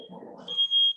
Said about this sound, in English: Sounds like somebody's smoke alarm.